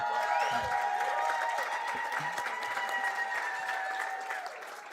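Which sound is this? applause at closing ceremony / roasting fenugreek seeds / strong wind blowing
applause at closing ceremony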